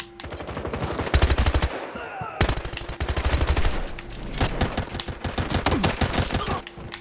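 Rapid pistol shots crack in bursts of gunfire during a Battlefield Hardline match, a dense run of sharp reports with short pauses between volleys, loud and close.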